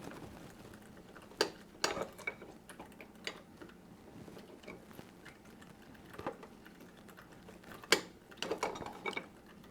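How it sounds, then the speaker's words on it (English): Sparse, faint ratcheting clicks in scattered short bursts as a 3-in-1 smart wrench turns the oil drain plug of a Honda Goldwing motorcycle in a garage, over a quiet low hum with no talking. "we're going to take our 3-in-1 smart wrench and we're going to just turn"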